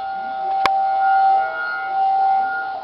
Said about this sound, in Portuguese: Veja aí o momento exato em que o alarme soou.